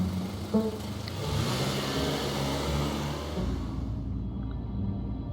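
An old, dusty BMW driving along an empty road, a steady low engine rumble and road noise held throughout, fairly soft and continuous, with no one speaking.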